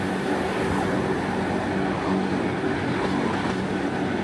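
Steady, loud rumble and rolling hum of the Gornergrat Bahn rack railway train riding up from Zermatt toward the Matterhorn in Switzerland, heard from inside the carriage without a break.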